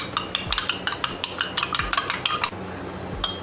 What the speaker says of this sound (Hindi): अंडा जो है इसको मैं अच्छी तरह से फेंट लूँगी